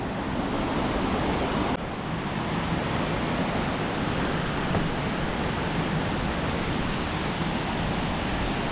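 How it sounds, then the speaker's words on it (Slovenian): A waterfall in Nivica canyon, Albania, pours with a steady, dense roar that holds at an even level throughout, with no voices. "Smo pri slapu v kanjonu Nivice."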